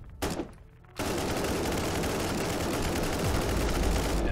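Sniper fire in the Warhammer 40k: Inquisitor - Martyr video game: a few sharp cracks, then a loud, sustained burst of dense gunfire that keeps going without letting up.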